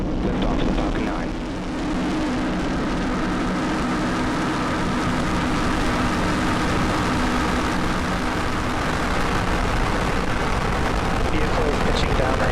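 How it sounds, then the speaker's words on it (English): A SpaceX Falcon 9 rocket lifting off, a continuous heavy broadband roar that holds steady and loud throughout, with a voice faintly audible beneath it. "Liftoff of Falcon 9."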